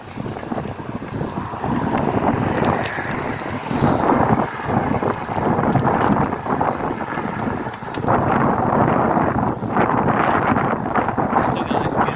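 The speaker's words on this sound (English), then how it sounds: "Still got a nice beautiful headwind." Strong headwind buffeting the microphone while bicycling along a Florida beach, a loud continuous roaring rush that surges in waves, with a voice talking over it at times.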